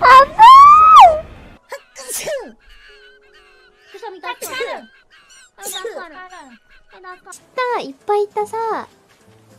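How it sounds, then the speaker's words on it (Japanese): A loud sneeze is followed by a series of short high-pitched vocal yelps and squeaky cries, close and intermittent, with brief speech. "ごめん、くしゃみした。"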